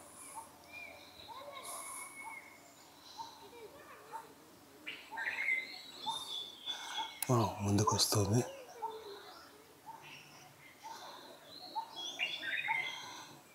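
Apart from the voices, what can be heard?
bird calling in the forest at Anantagiri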